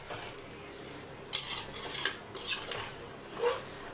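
A spoon scrapes and clinks against a metal pot in a few short bursts, stirring rice and water for chicken biryani, with a faint steady hum underneath.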